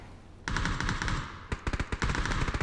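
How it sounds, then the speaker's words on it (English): Rapid automatic gunfire in a battle royale video game match, a sustained burst followed by choppy rhythmic volleys of shots, loud and close with no talk. "Hear those shots come out from eBay."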